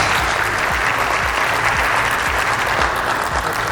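Sustained, dense applause from a gala audience at a live annual event, loud and steady throughout without pause.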